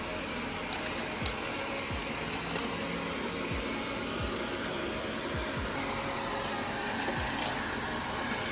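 A vacuum cleaner roars continuously, a steady loud whooshing drone throughout with faint periodic bumps beneath.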